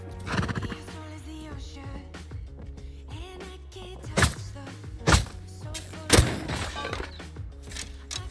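A horse whinnies amid clip-clopping hooves and several sharp thuds in the game Rust, the neighs rising loudly above a busy game soundscape.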